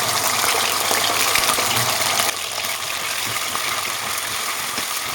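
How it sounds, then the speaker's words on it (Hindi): Chicken pieces frying in hot oil for an Afghani reshmi makhni chicken handi give a loud, continuous sizzling hiss that eases slightly partway through, with no talking. "अब इसमें चिकन डाल के इसको हम फ्राई करेंगे"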